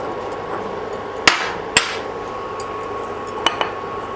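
Garlic, shallots, ginger and curry leaves being pounded in a mortar: a few sharp, close thuds spaced irregularly, with lighter taps between them, over a low background hum and no speech.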